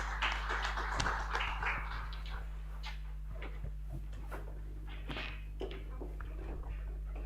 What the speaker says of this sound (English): Let us clap for our panelists as they go back to their seats.